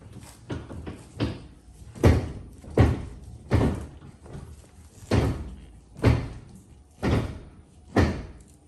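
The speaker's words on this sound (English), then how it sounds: "That's me turning the steering wheel." Turning the steering wheel on a Polaris RZR S 1000 with a worn rack-and-pinion steering rack produces about a dozen dull clunks and knocks in a loose, regular rhythm, close and moderately loud.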